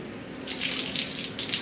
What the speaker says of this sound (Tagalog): Dito na rin po kami kumukuha ng tubig pag naliligo kami tuwing umaga papuntang school po